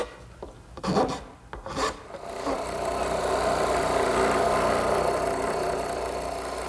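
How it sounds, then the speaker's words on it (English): A wood rasp rounds over the top of a wooden tenon, starting with a few short scraping strokes before settling into a steady, continuous rasping rub, close and fairly quiet. "I'm going to use my wood rasp to round it over to fit the mortise."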